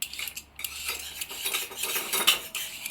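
Potato and okra are chopped with a knife on a board, giving a quick run of crisp, close chops and clatter at a lively, uneven pace, with no talking.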